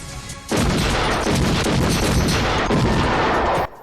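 A loud burst of gunfire in a film plays as a dense, booming roar for about three seconds, with repeated heavy pulses running together, then cuts off sharply, with no talking over it.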